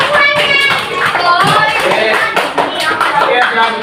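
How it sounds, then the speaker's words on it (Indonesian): Grade 4 primary school class of children clapping together in a classroom, loud close continuous clapping with mixed voices over it. "Tepuk tangan buat semuanya"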